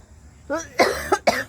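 A person coughs a few times in quick succession, close and fairly loud, after a brief vocal sound.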